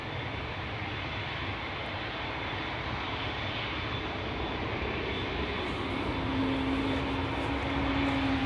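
An airliner taxiing at Schiphol Airport, its jet engines giving a steady, fairly distant roar that swells slightly, with a faint rising tone near the end and no talk.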